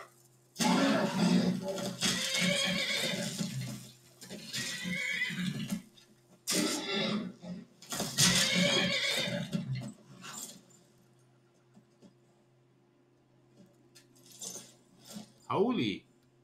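A horse in Skyrim whinnies and neighs loudly in long bursts, with shorter snorts later and a final neigh near the end.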